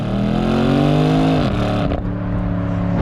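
A BMW M850i Gran Coupe's engine revs hard under acceleration, its note climbing steadily before a quick shift drop and then settling into a steady, loud drone close by, with no talking.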